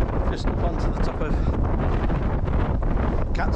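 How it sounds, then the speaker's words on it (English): Strong wind buffets the microphone on the exposed summit of Cat's Tor in the Peak District, a loud, continuous roar with gusty surges throughout. "it's very windy, so you might not be able to hear me"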